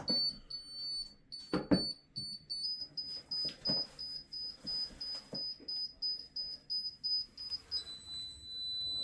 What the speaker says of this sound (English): I'll put the beep on there so you can hear it.